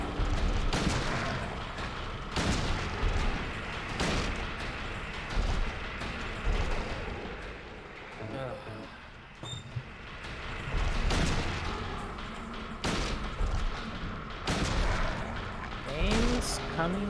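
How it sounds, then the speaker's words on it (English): Repeated hunting rifle shots in the horror video game Silent Hill 2, sharp loud bangs spaced every couple of seconds over a dense droning game ambience, with a person talking between them. "Alright, just gonna use the hunting rifle."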